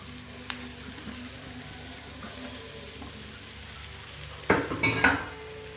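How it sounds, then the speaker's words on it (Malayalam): Sliced raw plantain goes into a hot pan with spices and is mixed: a quiet, steady sizzle runs throughout, then a burst of louder scraping and clattering near the end. "നമ്മൾ അരിഞ്ഞു വെച്ചിട്ടുള്ള നമ്മുടെ ഏത്തക്കായ ചേർത്ത് കൊടുക്കുക"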